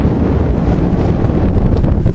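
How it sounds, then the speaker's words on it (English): Steady outdoor wind buffets the microphone with continuous low rumbling noise and no other distinct sounds. "Of course, we get a little wind around here."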